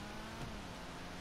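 An MK1 VW Golf drives in the game GTA, heard as a brief, faint, steady engine drone with road noise.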